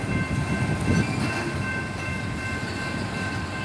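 A train rumbles past a road crossing on Lyons Highway, a continuous loud roar of rail cars with steady rolling noise and no voices over it.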